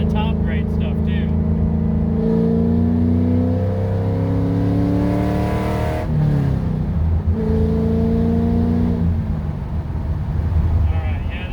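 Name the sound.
1967 Pontiac GTO engine accelerating while driving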